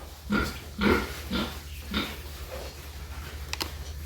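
Weaned piglets of about 15 to 20 kilos in their pens make a few short grunts and snorts, close by and moderately loud, with a brief sharp squeal near the end.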